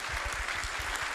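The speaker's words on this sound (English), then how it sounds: "round of applause, please" Audience at a live talk show in a cinema claps in a brief, dense burst of applause, steady and moderately loud.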